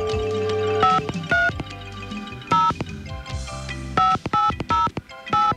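Telephone dialing tones on a radio prank-call show: a series of short, sharp beeps in uneven bursts with brief gaps, growing quicker toward the end.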